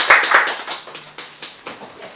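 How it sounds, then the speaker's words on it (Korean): Scattered hand claps from a seminar audience welcoming a speaker on stage, a few sharp claps at the start and then lighter, sparse clapping trailing off over about two seconds. "박수로 맞이해 주시면 감사하겠습니다."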